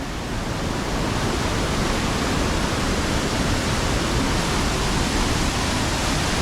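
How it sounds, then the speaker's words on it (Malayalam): Water gushing through a narrow gap in rock at Kadavupuzha pool in Kottayam, Kerala, a loud, steady, unbroken roar of rushing water. "വെള്ളം ഇരച്ചു വരുന്നൊരു സൗണ്ട്"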